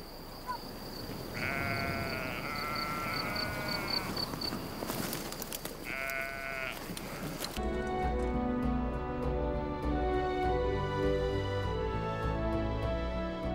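Sheep bleat in repeated harmonic calls among the flocks of a herding landscape in the Cirque de Navacelles, audible over steady outdoor ambience before music takes over partway through.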